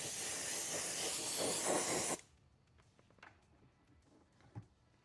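Silver spray paint hisses steadily from an aerosol can onto an ARRMA Mojave Grom RC car body, a close, loud, continuous burst that cuts off sharply after about two seconds, leaving quiet handling noises.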